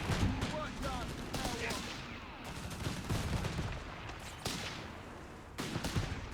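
Battle gunfire in the strategy game Company of Heroes 3: scattered rifle and machine-gun bursts with heavier thuds at varying distances, continuing steadily with faint voices beneath.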